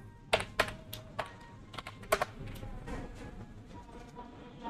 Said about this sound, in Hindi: तो हम सिंपली टाइप करेंगे कैट टेम्प डॉट txt।